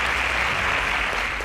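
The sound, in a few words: audience applause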